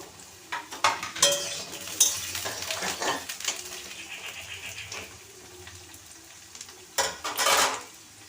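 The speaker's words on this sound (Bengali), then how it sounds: "কড়াইয়ে ছেড়ে দিচ্ছি কাটা আলুগুলো। ভালো করে লাল লাল করে আলুগুলোকে ভেজে নেব।" Cut potatoes go into hot oil in a wok and fry with an intermittent sizzle, while a spatula scrapes and clinks against the metal in bursts that grow louder near the middle and again toward the end.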